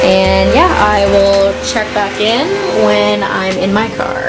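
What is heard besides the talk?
vacuum cleaner running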